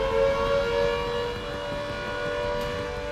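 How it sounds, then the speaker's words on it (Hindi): Air raid sirens wail steadily in Lahore after blasts near Walton Airport, a sustained held tone that dominates the scene over low street and traffic rumble, with no talk. "धमाके की आवाज के बाद से यहां लगातार सायरन बजते रहे।"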